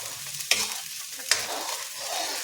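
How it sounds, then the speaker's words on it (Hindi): Salt, coriander, chilli and other spices sauté in a hot pan for matar paneer, giving a steady close sizzle broken by two sharp clinks of a stirring spoon. "फिर ये मसाले अपने सब डाल देंगे, नमक और ये धनिया मिर्ची। दो मिनट तक इसको भून लेंगे।"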